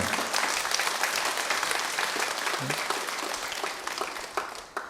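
Audience applause at a Sunday dharma talk in a Seoul Buddhist temple, a steady, fairly soft wash of many hands clapping with a few sharper claps near the end.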